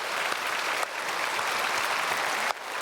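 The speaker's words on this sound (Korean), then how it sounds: "우리 감사의 축복의 박수 한번 보내겠습니다." A church congregation at a Sunday worship service applauds continuously in a steady, even wash of clapping from many hands for the whole stretch, with no speech over it.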